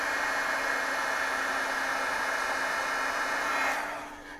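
A heat gun blows steadily while shrinking heat shrink tubing on a car's wiring, a constant loud airy whoosh that cuts off and fades near the end, with no voices.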